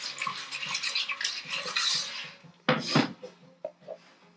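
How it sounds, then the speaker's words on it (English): Seafood stock simmering low in a cooking pot is stirred with a utensil, producing soft scraping and sloshing clinks up close, with a burst of sharper knocks against the pot toward the end; no talking. "Give that a little stir."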